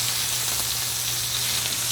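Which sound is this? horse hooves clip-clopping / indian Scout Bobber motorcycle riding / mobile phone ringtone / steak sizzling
steak sizzling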